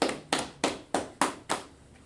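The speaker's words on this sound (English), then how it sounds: "So let's clap it up for him" Six even, sharp hand claps in a steady rhythm at a South Carolina gathering, close and distinct with short gaps between each, then silence.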